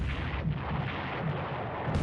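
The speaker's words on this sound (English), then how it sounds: "we're seeing a lot of gunfire pour out of the Detroit" Dense, continuous rumble of rapid heavy naval gunfire from the cruiser Detroit in a video game, a steady barrage of booming shots blending together with no voices.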